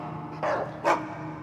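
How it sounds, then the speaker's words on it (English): Dogs bark outdoors, two distinct woofs about half a second apart, moderately near over a low background hum. "with the dogs barking behind him"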